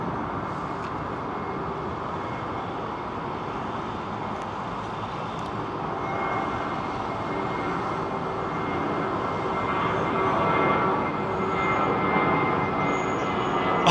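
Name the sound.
British Airways aircraft departing London Heathrow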